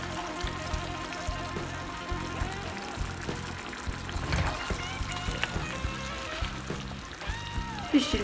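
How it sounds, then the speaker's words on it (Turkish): Hot water is poured into a pot of zucchini cooked in olive oil, giving a close, steady trickling and splashing that runs throughout, with soft clinks and stirring noises mixed in. "Sıcak suyumuzu da ilave ediyoruz."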